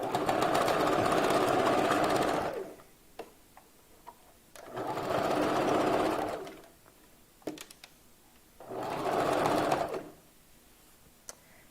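A sewing machine stitching wig material in three steady runs of a couple of seconds each, separated by quiet pauses with small clicks and handling, heard close and alone.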